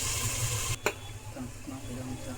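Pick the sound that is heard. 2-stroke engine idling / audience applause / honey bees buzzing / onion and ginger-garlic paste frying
onion and ginger-garlic paste frying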